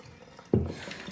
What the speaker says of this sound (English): I'm actually gonna let the water run